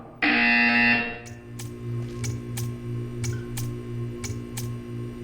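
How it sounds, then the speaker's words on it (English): A loud electronic buzzer blares for about a second in Portal 2, then a low hum continues with regular clicking ticks. "You will hear a buzzer."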